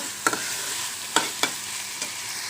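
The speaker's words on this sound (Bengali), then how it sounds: "ছোট্ট একটা পাতিলে রান্না করছি, অর্ধেক তরকারি।" Half a batch of shrimp curry bubbles and sizzles in a small pot on a gas stove, a steady close frying hiss broken by four sharp spoon scrapes and clinks against the metal.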